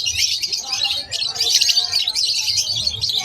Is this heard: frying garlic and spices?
no